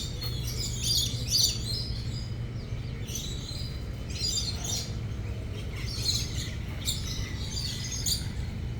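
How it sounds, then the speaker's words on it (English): Several birds chirp and tweet in short bursts in a zoo enclosure over a steady low hum, sounding fairly close and lively throughout. "They're noisy, as you can hear them."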